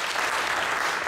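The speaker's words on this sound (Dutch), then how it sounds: "En als laatste een applaus voor Leon Wielens" A brief burst of steady audience applause at an ICT and AI masterclass, a dense wash of clapping from a seated crowd.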